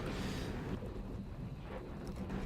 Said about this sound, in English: There's a thunderstorm going on over here.